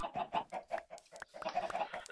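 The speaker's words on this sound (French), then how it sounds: "j'ai plein de poules." Minecraft chickens cluck in a quick run of short, rhythmic clucks at low volume, followed by a denser cluster of clucking.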